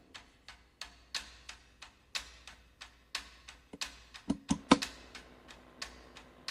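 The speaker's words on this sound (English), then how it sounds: "Oh, hand drums and ticking." Hand drum strikes with crisp ticking percussion in a song, a steady rhythmic pattern of sharp taps and hits, close and clear with no voices.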